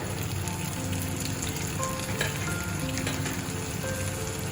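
Garlic paste added to a frying pan while cooking a Bengali chicken jhol sizzles loudly and steadily, a dense, even crackle like rain with faint stirring scrapes and no voices.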